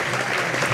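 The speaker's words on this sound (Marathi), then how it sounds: "सिस्टीम करता सर्वांनी टाळी वाजवा." A crowd at a Marathi bharud comedy performance claps for the sound-system crew, a very short, dense patch of applause at moderate level.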